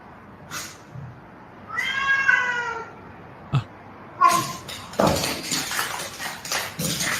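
A cat meows repeatedly in a staged cat-versus-dog scuffle, with a drawn-out caterwaul in the middle and sharp thumps and scuffling bursts toward the end, close and fairly loud.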